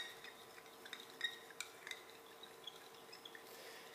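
A utensil stirs a solution in a glass, soft repeated light clinks and scrapes at an irregular rhythm, faint and close in a quiet room.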